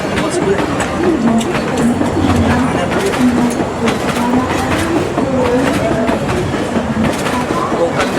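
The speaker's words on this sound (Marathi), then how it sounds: "प्लॅटफॉर्म नंबर 10 वरून आपली ट्रेन इथून निघालेली आहे आता" The Konkan Kanya Express, Mumbai to Goa train 20111, pulls away from platform 10 with a steady rumble and soft rail clatter, while people talk in the background and birds chirp faintly.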